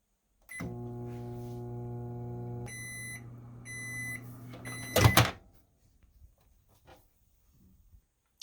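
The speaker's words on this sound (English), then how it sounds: "I'm going to put it in the microwave really quick" A microwave oven hums steadily while melting butter, then beeps in short bursts as its door is handled; a clunk follows and the room goes quiet.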